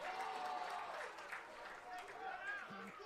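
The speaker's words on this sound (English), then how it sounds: "Crowd with a loud cheer." Crowd cheering loudly at a men's rugby match against Marian University, a broad sustained roar of voices filling the clip with steady intensity.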